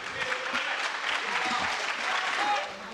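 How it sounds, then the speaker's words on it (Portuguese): Applause fills the room at the close of a press conference, steady clapping from a group lasting the whole moment, fairly close and even in loudness. "ele ficou até sem graça de ter sido aplaudido no fim da coletiva"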